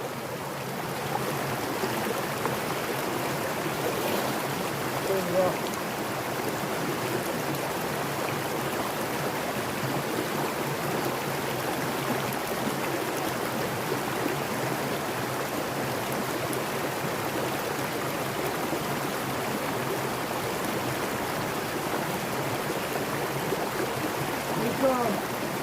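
A mountain stream at Mt Baldy flows steadily, a close, continuous broadband rush of water that stays even throughout with no speech.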